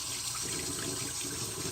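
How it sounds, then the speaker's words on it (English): Warm tap water running steadily into a sink to rinse a vintage 1955 Gillette Red Tip A2 safety razor, a constant close hiss with no talk. "I'm going to wet the razor under some warm water"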